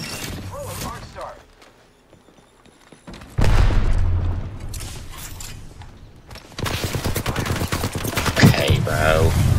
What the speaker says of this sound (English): Taking fire! The enemies are shooting at me.